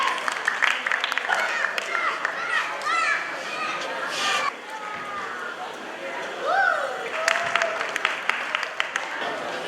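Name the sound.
audience applause at dance event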